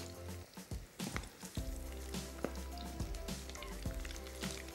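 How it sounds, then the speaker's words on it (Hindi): Prawns, small or large, frying in a pan in a home kitchen, giving a steady quiet sizzle with soft crackles and occasional clinks, no talk. "इस तरीके से आपने इसको फ्राई कर लेना है"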